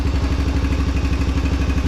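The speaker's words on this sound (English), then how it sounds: "idle's great, and then it just does not want to rev up" A 2021 Suzuki DRZ 125 motorcycle engine idles close up, a steady, even low putter with a rapid regular pulse and no voices.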